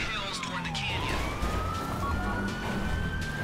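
Police car siren in GTA V wailing steadily in a rising and falling tone over traffic and game noise, with game voices talking over it.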